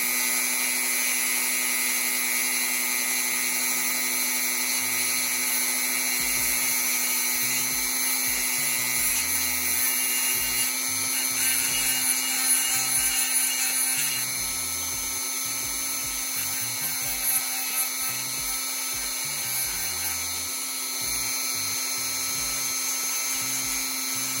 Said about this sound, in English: sometimes you get a little excess plastic. So we want to kind of shave that down to fit.